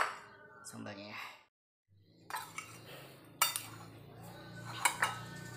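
Potatoes, tempeh and tofu are tipped onto a plate, with clinks of a utensil against dishware in scattered bursts after a brief silence, close and fairly quiet, alongside faint voices.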